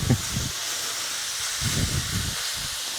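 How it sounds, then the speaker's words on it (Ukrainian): Steady sizzling hiss of meat frying in a hot pan over high heat, constant and fairly loud, with faint low rumbles of movement underneath. "Тому вогонь великий і активно смажемо."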